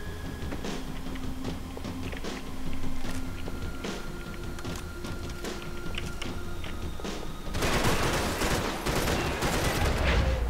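Gunfire in Max Payne 3 comes as a rapid series of sharp shots and bursts, close and loud, with scattered thuds between volleys and a denser crash of fire near the end.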